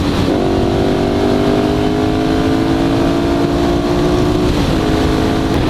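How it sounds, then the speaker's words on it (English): A Harley-Davidson Iron 883 motorcycle roars past close and loud, its engine note steady and droning before a brief dip near the end as it passes, with no voices. "Your loud ass bike. Let's do some flybys."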